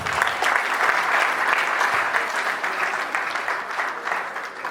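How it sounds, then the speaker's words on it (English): A crowd claps steadily at a youth development event in Nigeria, a dense burst of applause that holds strong and then eases slightly toward the end. "Clap for her again."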